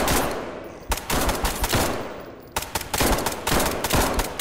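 Gunfire in the video game SCP 5K: dense bursts of rapid automatic shots, loud and close, with a short lull before the firing resumes.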